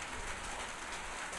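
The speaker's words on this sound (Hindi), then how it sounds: "बारिश हो रही है, इस वजह से मेरी आवाज शायद क्लियर ना जा रही हो" Steady rain falls outdoors during a chemistry lecture, a constant hiss with no break that fills the whole short stretch.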